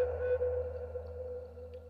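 A synthetic submarine sonar ping built from layered sound effects: a steady resonant tone held throughout, over a low constant hum, loud and close with no voices.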